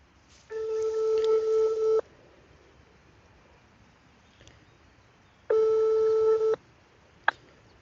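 A telephone busy tone after a call is hung up, two separate bursts of steady beeping heard close through the handset with quiet pauses between and a brief click near the end.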